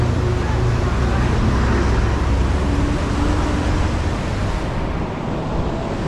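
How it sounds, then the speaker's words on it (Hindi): Fast-moving trucks on a high mountain highway in Ladakh, a continuous loud roadway roar with low engine hum and tyre rumble, swelling and easing slightly as vehicles pass close by, then thinning near the end; no talk. "ट्रक वाले भी ना बड़ी तेज़ आते हैं"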